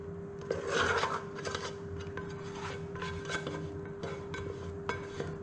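A scraper rasps against a saucepan to recover coffee extract, a close, quiet series of rubbing, grating strokes with no talk.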